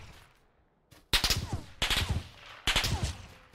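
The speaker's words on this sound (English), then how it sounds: "You have a silenced gun." Suppressed gunshots from a silenced weapon in a first-person shooter video game, three loud muffled bursts in quick succession, each a short cluster of shots, with no talk over them.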